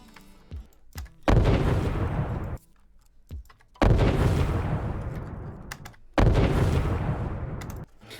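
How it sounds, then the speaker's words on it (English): Layered distant explosion built for a game: three deep, rumbling booms, each swelling in and decaying over a second or two, separated by short gaps with faint clicks. "this is already something that sounds kind of cool in terms of just a distant explosion"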